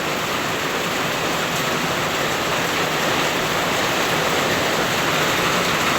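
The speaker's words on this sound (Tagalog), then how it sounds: "Ang lakas ng talaga ng ulan ngayon." Heavy Monday rain falls in a rural clearing, a dense, unbroken roar of downpour with no voices, steady and loud throughout.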